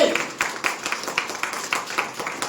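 Audience clapping at a business plan seminar, a run of sharp, fairly even claps repeating at a steady rhythm, moderately loud and close, with no talk over it.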